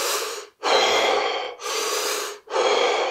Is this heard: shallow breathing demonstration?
yes